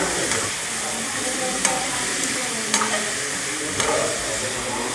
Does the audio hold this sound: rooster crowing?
no